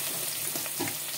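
Crushed garlic cloves hit hot cooking oil, giving a close, continuous sizzle and crackle that stays dense and even for its short length.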